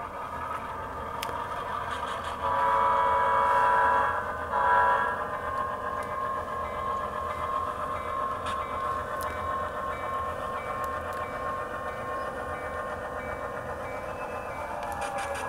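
A model Southern Railway F3 locomotive rolls onto a programming track with a steady, close motor hum and whirring wheels. The sound swells briefly early on, then settles to an even running drone, with no voices.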